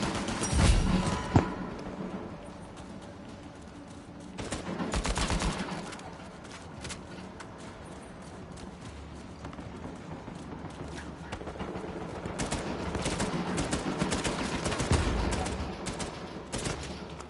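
Gunfire in an Uncharted game fight: scattered and clustered shots crack through a steady background din at moderate loudness, with heavier bursts near the start and again midway.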